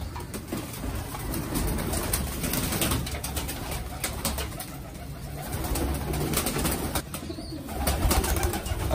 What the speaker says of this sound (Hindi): These are my birds.